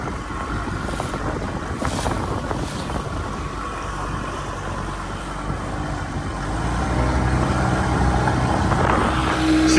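The outboard motor of a Carolina Skiff 16 boat drones steadily while running on open water, not reaching full throttle because of a control problem, with wind buffeting the microphone and the engine swelling slightly louder near the end.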